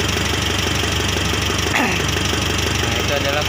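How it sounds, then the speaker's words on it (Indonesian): A Mitsubishi Triton 2.5 GLS with the 4D56 intercooled diesel engine idles steadily for an injector check, a continuous close, loud rumble with a faint knocking texture throughout. "itu adalah pengecekan untuk mesin hidup"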